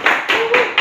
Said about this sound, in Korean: 학생들과 함께하는 현장 수업이기 때문에 박수 소리가 들리고